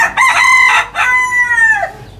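A village rooster crows loudly and close among free-range chickens, two drawn-out calls in quick succession with a short break between them.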